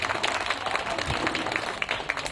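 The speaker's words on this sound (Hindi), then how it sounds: "जोर से तालियां बजाएं" Audience at a Christmas gathering in a care home clapping loudly after a song, an uneven patter of hands with some murmuring voices mixed in.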